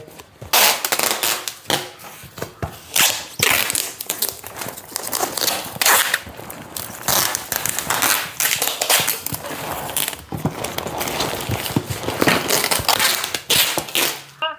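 Sellotape pulled off the roll in sharp, crackling bursts and wrapped around a parcel packed for sending abroad, loud and close, with repeated tearing rips and short pauses between pulls.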